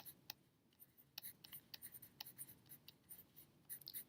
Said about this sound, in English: I'm going to write my topic at the top